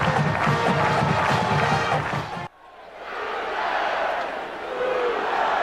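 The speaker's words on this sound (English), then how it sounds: "A sellout crowd getting ready for Kansas State and Oklahoma." A sellout stadium crowd roars before kickoff of a 2001 college football game between Kansas State and Oklahoma in Norman, Oklahoma, a loud sustained wall of cheering that cuts off abruptly, then swells back at a more distant level.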